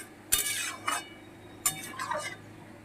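Bottle gourd and egg curry being stirred and sautéed in a pan makes a few separate bursts of scraping and clinking against the metal, with quiet gaps between strokes over a faint background.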